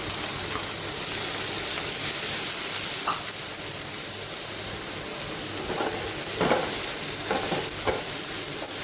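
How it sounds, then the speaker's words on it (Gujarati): Onions and cumin frying in a pan give a steady sizzle, with occasional scraping clicks as they are stirred, close and unbroken, with no voices. "ડુંગળીને હલાવી લઈશું. ડુંગળીને ગોલ્ડન કલરની થવા દઈશું."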